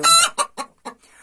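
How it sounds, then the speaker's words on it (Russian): Hens brooding on their nests cluck in indignant bursts, a few loud, close, agitated calls in quick succession that trail off into quieter rustling. "Три курочки со старого родительского стада тоже сидят. Возмущаются."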